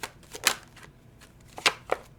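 Tarot cards being shuffled by hand in a quiet room, a series of crisp riffling bursts at an uneven rhythm, close and fairly soft, with no talking.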